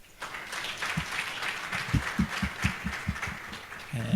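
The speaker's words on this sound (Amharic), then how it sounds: "መጀመሪያ ለራሳችሁ ጭብጨባ" Audience applause at a film festival and disability awards ceremony, a steady wash of clapping with some individual claps standing out, fairly close and continuous.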